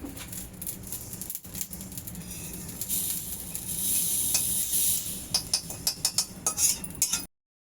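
Fennel seeds roast in a pan over low gas for homemade mango pickle, a soft continuous sizzle with gentle stirring and scraping, ending in a run of quick metallic clinks from the spoon against the pan.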